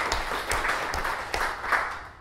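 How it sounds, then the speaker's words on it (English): A small audience claps for a speaker at a talk on WordPress hosting with AWS, a brief burst of steady applause in a room, moderately loud with a few sharper individual claps. "Let's give him a round of applause."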